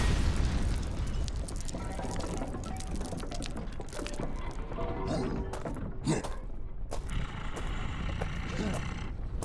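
Warhammer 40K Astartes drop pods slam down amid booming explosions, with a rumbling roar, a few sharp blasts and scattered debris crashes, and voices talking over the din.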